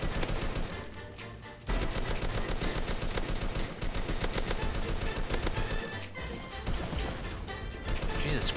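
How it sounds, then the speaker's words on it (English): Dense, rapid bursts of gunfire and booming blasts in the Roblox game Base Battles pile up continuously, loud and chaotic, with a brief lull before the barrage resumes. "calm down with the explosions"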